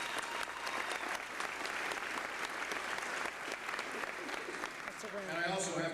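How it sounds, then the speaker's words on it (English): A crowd at a marching band release party gives sustained, fairly distant applause. A voice begins speaking near the end. "I want you to give yourself a big round of applause"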